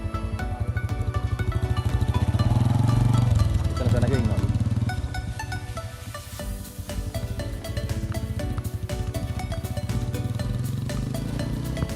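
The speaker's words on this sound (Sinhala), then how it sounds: "බයික් එකක් යනවා." A motorbike engine drones loudly nearby with a rapid, throbbing rhythm that shifts in pitch as it passes, while a person speaks briefly.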